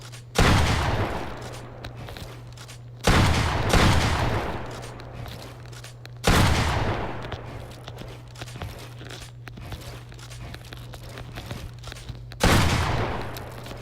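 Video game gunfire in Fortnite as targets are shot on an edit course, four loud bursts spaced a few seconds apart, each a sharp crack trailing into rattling echo, over a steady low game hum.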